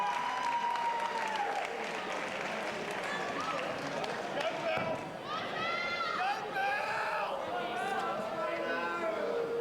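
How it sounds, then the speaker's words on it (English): Crowd applauding a boxer at a fight night at the Roxy, sustained clapping and cheering with a voice talking loudly over it throughout, whistles and raised shouts rising in the middle. "give a final round of applause tonight for Wayne"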